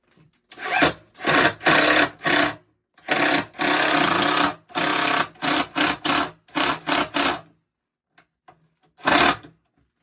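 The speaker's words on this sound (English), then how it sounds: "Now I'm screwing them in, yeah." A power drill drives screws into 2x4 boards for a console table, running in repeated loud bursts of a second or so separated by short pauses, with a final isolated burst after a brief gap.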